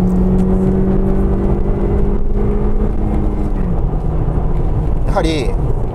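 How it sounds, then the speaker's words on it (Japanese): A Honda Civic LX with a 1.5-litre VTEC turbo engine and six-speed manual gearbox revs on a highway, a loud steady engine drone with rising pitch over heavy road and wind noise, with a voice talking over it. "今エンジンちょっと回してみます。"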